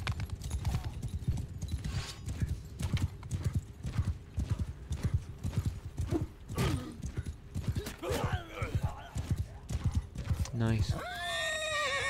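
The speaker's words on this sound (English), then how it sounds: "Sorry, horsey." Horse hooves clip-clop at a steady gallop amid a Bannerlord battle, with a loud whinny near the end, while someone talks over the action.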